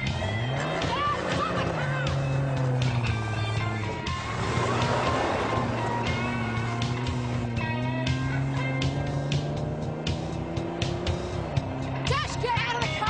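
A car engine revs and pulls away during a police chase, its pitch climbing with some tire noise, while voices shout over it.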